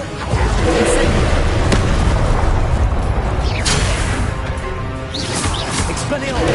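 Incendio fire spell blasts in Hogwarts Legacy: a dense, continuous roar of booming, crackling magical fire with a few sharp bursts, loud and sustained throughout, mixed with game effects.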